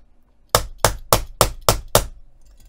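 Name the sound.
hammering snap fastener through fabric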